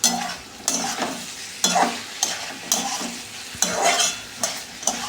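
Beef being stirred as it fries in a pan, with a steady sizzle and regular scraping strokes of the spatula about once a second, close and moderately quiet, no voices.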